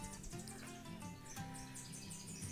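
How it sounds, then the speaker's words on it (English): Faint birdsong on a spring morning near an outhouse, with steady chirps and tweets repeating over a soft background hum, distant and low in level. "The birds are happy."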